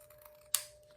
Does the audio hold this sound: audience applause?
no